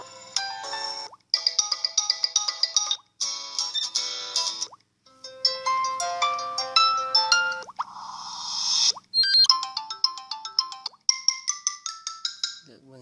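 A series of short Facebook Messenger notification tones, each a bright chiming melody, play one after another with brief gaps, clear and close.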